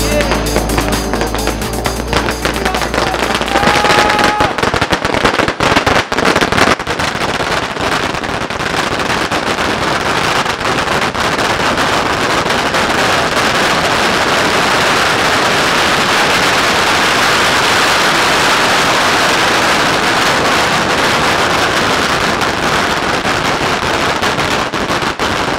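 A chatai bomb, a long string of firecrackers, goes off during Diwali celebrations in Patna, producing a dense, continuous crackle of rapid loud bangs that runs without pause for over twenty seconds after a few opening pops.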